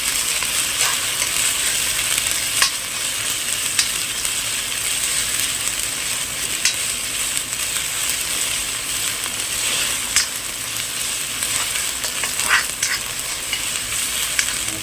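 Chicken sukka masala sautéing in a pan, a steady bright sizzle running the whole way with occasional sharp scrapes and clicks of a spoon against the metal, close and fairly loud, no voices.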